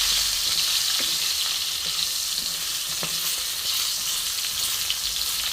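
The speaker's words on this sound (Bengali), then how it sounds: "এবার পটলটা আমি বেশ ভালো করে ভেজে নেবো" Pointed gourd (potol) sizzles loudly in hot oil in a pan, a constant crackling fry with occasional soft clinks of the spatula stirring, and no voices.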